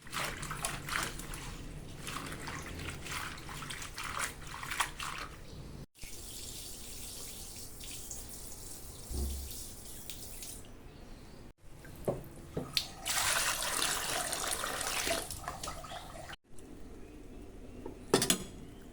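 Sweet potato leaves are washed by hand in water at a sink, with steady running and splashing water, sloshing and rinsing in several bursts, close and continuous with brief pauses.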